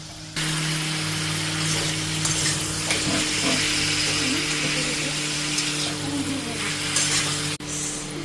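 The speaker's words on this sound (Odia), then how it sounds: "ସାଙ୍ଗମାନେ ଏବେ ଆମେ କୋବିକି ଭାଜିଦେବା, ଚାଲନ୍ତୁ।" Cabbage sizzles steadily in hot oil in a pan, a continuous close frying hiss with occasional stirring scrapes and a steady background hum.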